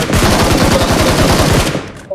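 Rapid automatic gunfire bursts in a battle royale video game match during a ranked grand finals, loud and continuous with dense repeated shots across the whole clip.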